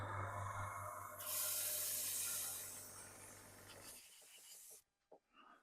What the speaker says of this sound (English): switch on the compressor again